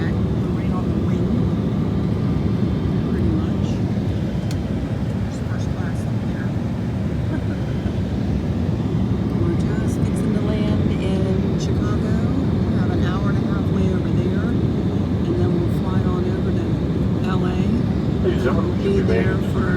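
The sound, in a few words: Embraer jet airliner cabin noise in flight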